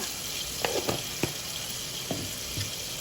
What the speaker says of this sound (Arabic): حطينا حمسنا البصل، راح نضيف اللحم. نخليه ينحمس